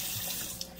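Warm water runs steadily from a household tap into a sink, a soft continuous hiss and splash heard briefly and closely with no talking.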